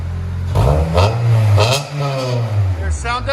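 A 2005 Honda Civic Si EP3 with an eBay cat-back exhaust revs hard, its note climbing and easing through a few loud blips close to the microphone, raspy and buzzy.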